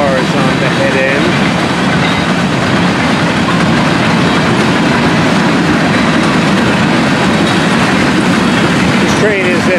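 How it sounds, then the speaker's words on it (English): FEC 240 freight train rolls past close and loud, a constant roar of cars with rhythmic wheel clatter throughout and nothing else on top. "The train is FEC's 240."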